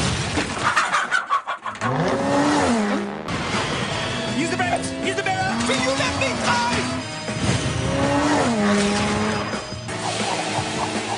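Cartoon car driving in a Danger Mouse episode, with an engine hum and swooping, pitch-bending motor whines rising and falling under character voices that talk over much of it.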